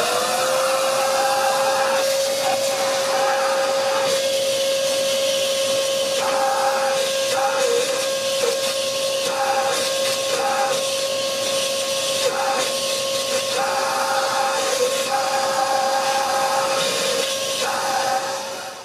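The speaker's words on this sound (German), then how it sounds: "einfach mit dem Staubsauger reingehen und den Dreck rausholen" A vacuum cleaner draws dirt out of the exhaust port of a Piaggio Ape TM three-wheeler, a loud, constant whining roar with a steady tonal hum that runs unbroken until the very end.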